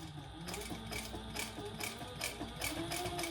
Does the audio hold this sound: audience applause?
no